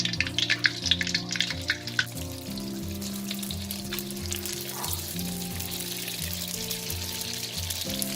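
Fish skin and seaweed frying in a small amount of oil give a steady close sizzle with scattered crackles, over a low constant hum.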